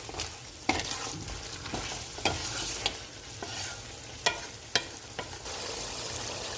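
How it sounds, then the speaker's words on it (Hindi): Mutton frying in a pot with dry coriander, chili and salt, a soft steady sizzle punctuated by several sharp scrapes and clanks of a spoon stirring against the pan. "खुश्क धनिया, नमक और इसे आप थोड़ी देर तक भूनेंगे।"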